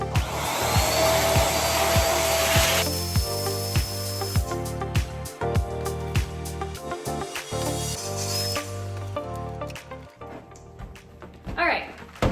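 An electric balloon pump inflates a confetti-filled balloon, first as a loud steady whooshing hum, then as a rhythmic pulsing whir with light rustling that fades toward the end.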